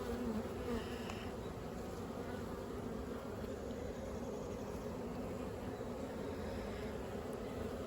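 Honey bees from a strong overwintered colony buzzing during a hive inspection, a steady, dense hum that stays even and close throughout, with no talk.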